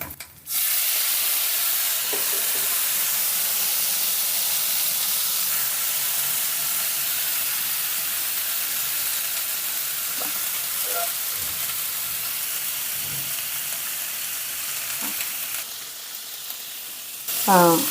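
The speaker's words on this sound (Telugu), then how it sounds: "ఇప్పుడు ఇందులోకి నాలుగు టమాటాలు ఇలా కట్ చేసుకొని ఇవి కూడా వేసుకుందాం" Cut tomatoes drop into a hot pan for a tomato chutney and sizzle steadily, a close, continuous frying hiss with a few faint stirring clicks and a brief knock near the end.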